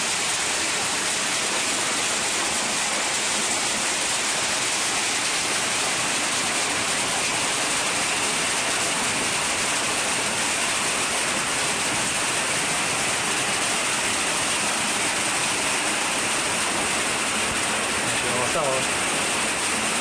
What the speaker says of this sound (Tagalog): Yan, bumuhos na yung ulan.